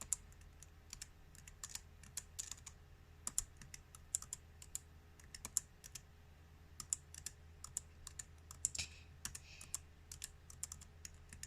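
Computer keyboard keys click in irregular quick taps, some in short bursts, while playing a Roblox game; the clicks are close and crisp over a quiet low hum, with no talking.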